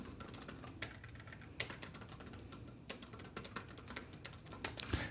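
Fast typing on a computer keyboard while writing a loop in code, a steady patter of close, crisp key clicks with a few louder strokes, no voices.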